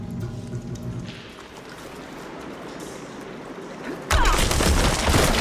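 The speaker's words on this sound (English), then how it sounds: "Sounds like the water's switched." Water rushes through pipes in a steady, broadband flowing wash within the Horizon Forbidden West video game, swelling suddenly louder near the end as the flow switches.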